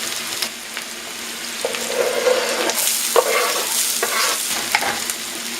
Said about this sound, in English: So we are frying on high heat until it turns a little bit golden brown.